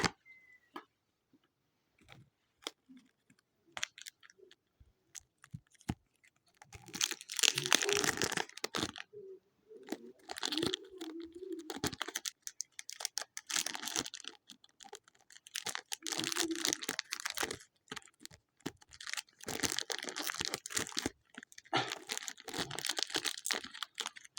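Trading card packs are torn open by hand, their plastic wrappers crinkling and crackling in close bursts, with rustling and tapping between the louder stretches.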